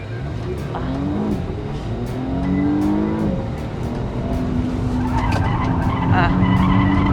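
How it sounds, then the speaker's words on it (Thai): A Porsche brakes hard on a test drive, its tires skidding and squealing in long rising and falling tones over a loud engine and road roar. "เอาอีกแล้วน้องแจม เบรกหนักนิดนึงนะครับ"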